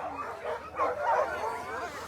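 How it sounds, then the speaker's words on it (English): Sled dogs from a racing team at the start of a mid-distance sled dog race yip, whine and bark excitedly in an overlapping chorus, moderately close and continuous. "We got the Northern Whites out there, Jim Lanier's dogs"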